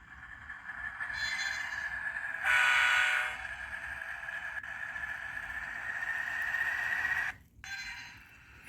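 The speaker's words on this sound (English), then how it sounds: "So first we're gonna start off with the CSX locomotive." HO scale CSX model locomotive with DCC running on track: a faint, steady motor whine throughout, with a brief louder tonal burst early on and a short dropout near the end.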